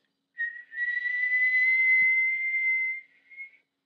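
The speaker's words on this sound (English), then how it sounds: "When you whistle," A person whistles to a pet cat with one sustained, fairly loud note that holds steady for about two and a half seconds, then fades into a short, softer second whistle.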